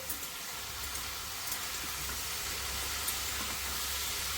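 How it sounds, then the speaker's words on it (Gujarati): Mushrooms sautéing in hot oil for a mushroom matar masala, giving off a steady, even sizzle and hiss that carries on without a break. No voices are heard. "આજે થોડા સોટે કરી લઈશું એને તેલ ની અંદર"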